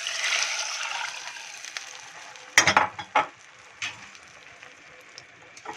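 Broth poured into a pan of onions sautéed in ghee and oil with ground cardamom, a sharp burst of splashing and hissing that quickly settles into a steady soft sizzle with a few stirring knocks.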